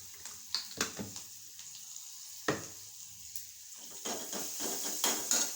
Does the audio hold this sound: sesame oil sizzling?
yes